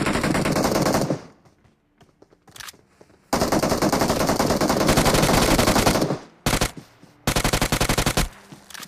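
Sustained automatic gunfire in a battle royale video game, with long rattling bursts separated by short gaps, loud and up close, and no talking over it.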